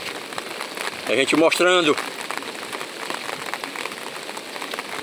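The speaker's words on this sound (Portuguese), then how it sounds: "A chuvinha está aumentando agora." Rain falling over the Acaraú river in Sobral, Ceará, a steady close patter of drops, with someone speaking briefly over it.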